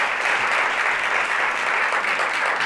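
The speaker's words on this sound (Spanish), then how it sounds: "Un aplauso para el comité afectado por la comedia romántica." A television studio audience claps in steady, dense applause throughout, with no voices over it.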